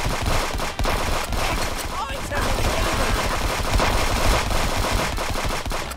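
Turret machine gun in the Friends Vs. Friends video game firing in sustained, dense bursts for the whole stretch, loud and continuous with no break.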